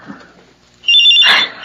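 A cellphone rings close and loud, a bright electronic ring starting abruptly after a quiet moment and sustaining to the end.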